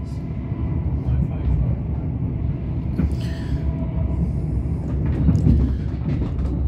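A Southern Railway passenger train travelling toward East Grinstead gives a steady, loud onboard rumble throughout, with wheel and carriage noise rising slightly near the end.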